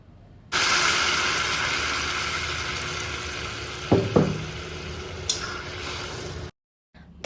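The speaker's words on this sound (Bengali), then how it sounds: "গরম জলটাই একদম পরিমাণ মতো দিয়ে দেবো" Hot water is poured into spiced masala frying in oil for a fish curry, giving a loud, steady sizzle and hiss that holds for several seconds, with a couple of brief clinks partway through.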